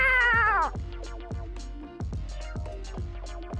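A cat gives a loud, drawn-out meow close by, followed by a run of shorter, softer meows and cries, with no talking.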